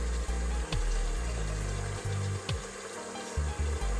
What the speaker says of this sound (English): I'm gonna add the water.